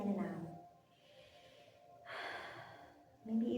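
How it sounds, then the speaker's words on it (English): Slow, audible breaths drawn in and let out during a calm yoga flow, a soft inhale followed by a longer exhale, close and fairly quiet with little else around. "Take a couple moments breathing in and out."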